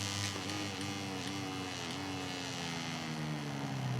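A thin, buzzing motorcycle engine from the MotoGP 18 racing game drones steadily in the background, fairly quiet, its pitch wavering slightly as it goes.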